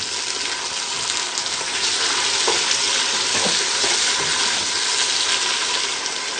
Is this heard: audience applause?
no